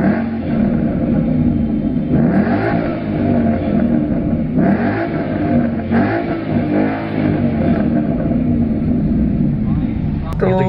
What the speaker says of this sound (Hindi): तो भाई मैं अब खड़ा हूँ एक शांत जगह पे और इसको चेक कर रहे हैं थ्रॉटल रिस्पॉन्स।